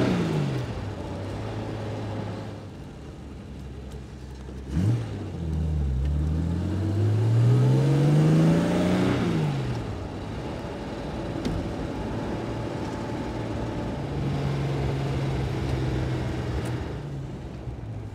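A 1964 Jaguar 3.8 liter Series 1 Roadster engine running with the choke on, idling then revving up sharply and falling back, pitch swooping before settling into a steady idle, close and clear with no talk.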